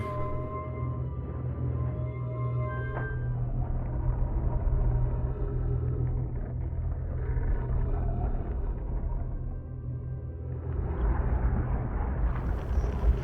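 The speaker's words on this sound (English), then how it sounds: "Very windy." Steady low rumbling wind roars throughout in the video game Outer Wilds, a broad dull whoosh with faint tonal hums, swelling slightly near the end.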